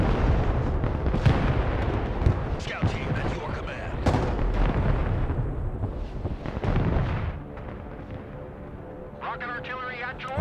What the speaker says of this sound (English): Just as the artillery arrives as well.